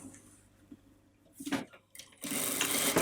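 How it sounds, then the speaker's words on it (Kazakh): A sewing machine runs in short bursts while stitching around a seam with a 1 cm allowance. The whirring starts and stops, then runs steadily and fairly loud through the final second. "Міне, осы айналдырып тігіп аламыз."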